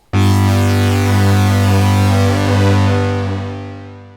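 A sustained Softube Model 72 synthesizer tone with the stereo doubler on, giving a thick, doubled, slightly chorused character, steady and loud for about four seconds before fading slightly.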